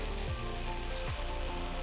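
Chicken masala with tomatoes and yogurt frying in a pan, a steady close sizzle running throughout with faint stirring scrapes, no voices.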